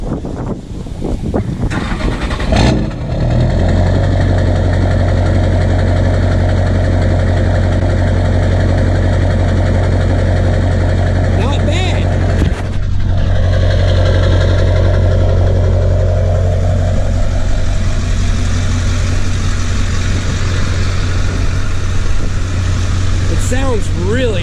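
A 2004 LB7 Duramax diesel truck engine cranks and fires, then settles into a steady, loud, close idle with a deep continuous rumble and a brief dip partway through.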